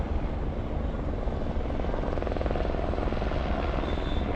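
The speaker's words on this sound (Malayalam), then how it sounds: "ഇങ്ങനെ ഹെലികോപ്റ്റർ വന്നു പോയിക്കൊണ്ടിരിക്കുക." A helicopter lands at a nearby helipad, its steady, loud rotor and engine roar droning without a break throughout.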